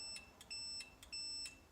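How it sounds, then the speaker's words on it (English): A multimeter gives faint, repeated electronic continuity beeps while testing a small switch during a microwave oven teardown. Short high tones in an even on-off rhythm, with no talk. "If you get a multimeter and hook one side up to one side, see continuity, it'll beep if it detects that there's continuity"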